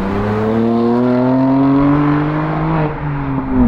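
A 2019 BMW M2 Competition engine accelerates hard in one loud, continuous, close pull, its strong rising harmonic tone holding steady before dipping briefly near the end.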